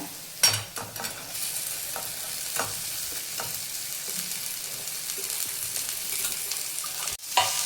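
Okra fries in oil seasoned with asafoetida and turmeric, a continuous close sizzle broken by scraping stirs and several sharp knocks of a spatula on the pan, with no voices.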